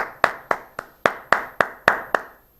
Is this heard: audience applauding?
yes